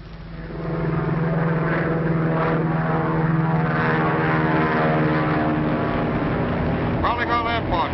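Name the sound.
high-wing propeller monoplane flying over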